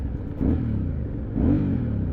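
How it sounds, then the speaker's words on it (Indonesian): An Aprilia Shiver 750 motorcycle engine is blipped twice, two short rising revs close by over a steady idle rumble. "Nih kita cobain kali ya, gue geber dikit"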